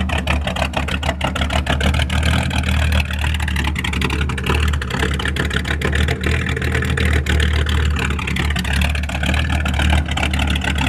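A 1966 Corvette Coupe's big block V8 engine idles steadily throughout, with a throbbing low burble and constant loud drone, no talking.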